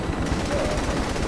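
Rapid gunfire in Saints Row The Third, a fast continuous rattle of shots close and loud throughout the short burst.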